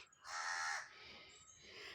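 A crow gives one loud, harsh caw followed by a fainter, drawn-out second call, close by against a quiet background.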